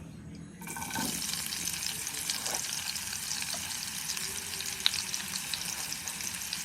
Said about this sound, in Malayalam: ഇതിലോട്ട് ഓയിൽ ഒഴിച്ചെടുത്തു എന്നിട്ടൊരു സവാള കട്ട് ചെയ്തിട്ട് കൊടുത്തു